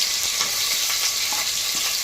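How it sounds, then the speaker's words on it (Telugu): Sliced onions and green chillies fry in hot oil over spices, giving a steady, dense sizzle with a few soft stirring scrapes, close and continuous throughout. "ఆనియన్స్ బ్రౌన్ కలర్లో వచ్చేంత వరకు మనం ఫ్రై చేసుకోవాలి."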